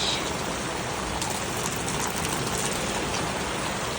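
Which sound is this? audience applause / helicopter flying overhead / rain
rain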